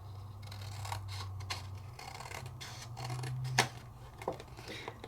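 Scissors trim inked paper cut into a stencilled background, giving a run of short crisp snips and clicks in quick succession at close range.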